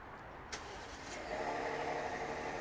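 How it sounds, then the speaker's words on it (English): A 2024 Ford F-150 Tremor pickup engine, remote started, turns over and settles into a steady, close idle, with a brief click near the start and a rising rumble as it catches. "let's go ahead and remote start the Ford"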